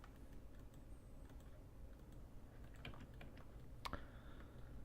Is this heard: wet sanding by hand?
no